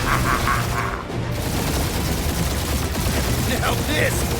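Rapid bursts of blaster gunfire crackle through a spaceship dogfight in the Guardians of the Galaxy video game, sustained and dense over a rumbling engine bed with booming impacts and no pause.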